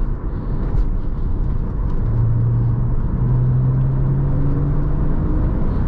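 A 2000 Porsche Boxster S taken around a corner, its engine a steady, loud drone close by with a rising tone as it pulls through the bend.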